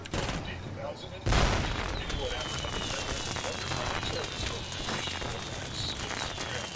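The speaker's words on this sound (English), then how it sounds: "I'm happy that Shadow Warrior kept that in their game. The fireworks." Fireworks crackle and pop continuously in the video game Shadow Warrior 2, opening with one loud burst and then a dense, rain-like stream of small bangs with faint whistling trails overhead.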